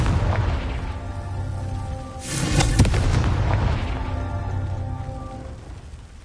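A Confringo fire spell in Hogwarts Legacy bursts with a deep booming explosion in the middle, sitting between stretches of low rumbling game ambience with a tonal hum.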